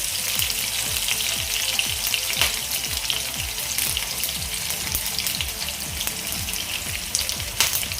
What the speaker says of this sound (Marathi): आता यामध्ये एक चमचा तीळ घालते पांढरे